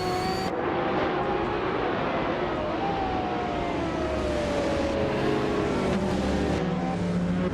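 Several cars in a video game race, one of them a classic 1998 Lotus Tiga Esprit, roar steadily at high speed, with engine pitch shifting up and down through gear changes, loud and continuous with no talking.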